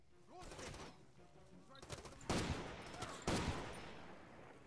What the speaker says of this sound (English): I'm hearing a lot of shots